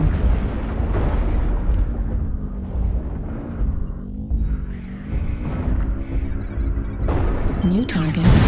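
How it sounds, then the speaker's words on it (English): Artillery strike explosions in a video game rumble and boom continuously with low, heavy blasts, under game voices and music. "Artillery strike activated."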